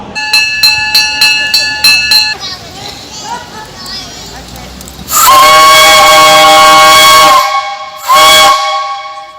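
Loud, shrill steam whistle blasts with a mechanical chiming run beforehand from a mechanical train sculpture on a waterfront, over the chatter of children playing nearby.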